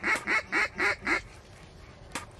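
A duck gives five rhythmic, evenly spaced quacks nearby during a duck hunt, followed by a short pause and a single sharp click.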